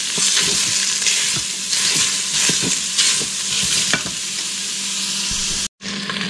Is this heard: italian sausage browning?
yes